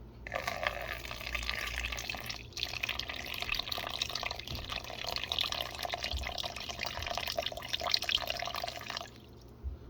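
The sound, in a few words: pouring water from a water bottle into tarantula enclosure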